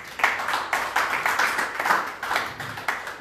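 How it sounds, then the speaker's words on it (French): Rhythmic hand clapping from a congregation at a deliverance prayer service, a steady beat of close, bright claps repeating about every third of a second throughout. "acclamons le Seigneur"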